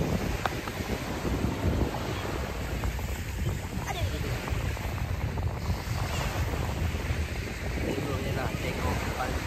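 Sea waves wash onto a beach at Dungun while wind buffets the microphone in a steady, close roar of surf and gusts.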